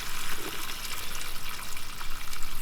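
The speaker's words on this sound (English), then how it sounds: "That's the water being pushed out by the pressure in that system." Water forced out of a garden hose on a reel by pressure in the system after the tap is opened, a steady close hissing gush with slight fluctuations, no talking.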